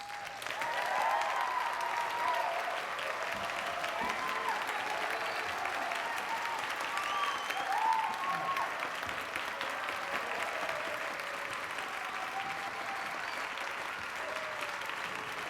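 Audience at a cultural awards event applauding the culture minister, with sustained clapping from a crowd that rises and falls slightly and continues throughout.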